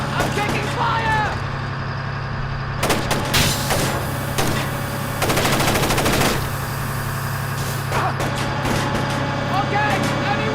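Gunfire crackles in the Splinter Cell Chaos Theory video game, with dense bursts of shots around the three, five to six and eight second marks over a steady low game hum, and voices talking in between.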